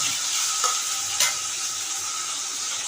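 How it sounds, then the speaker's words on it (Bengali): Potatoes and vegetables fry in a pan with a constant close sizzle, punctuated by a couple of brief scraping stirs, with no voices. "অনেকক্ষণ ধরে ভাজতে হবে কারণ আলুগুলো সিদ্ধ হওয়া চাই ভাজার মধ্যে"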